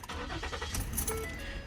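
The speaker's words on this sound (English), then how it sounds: "If we go ahead and start up the car" A 2013 Ford Police Interceptor Utility with 106,000 miles starts up close by: a steady engine rumble with a few sharp clicks and metallic rattles, and no talking.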